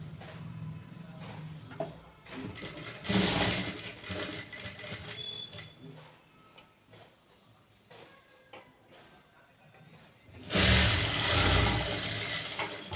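Sewing machine stitching a line along a blouse tuck, its motor running in steady mechanical whirring bursts, loudest near the start and again in a sustained run at the end, with no talking.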